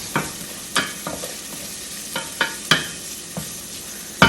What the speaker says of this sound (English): Now I'm gonna add this ginger and this garlic together. Okay, let's fry this for 3 to 4 minutes.